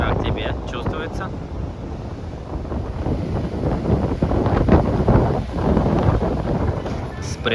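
Gusty ocean wind on a beach in Albufeira, Algarve, Portugal buffets the microphone in rough, uneven rumbles, with a faint wash of background noise and occasional voices beneath it.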